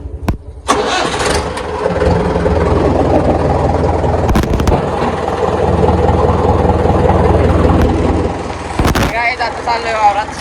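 A tractor engine rumbles loudly and steadily throughout, with a few sharp clanks and bumps, heard close on a sugarcane farm run.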